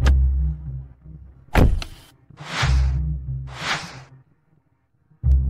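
A car engine rumbles low, then a door clunks, two swishing power windows glide in turn, and a final solid thunk lands near the end, all without any talk.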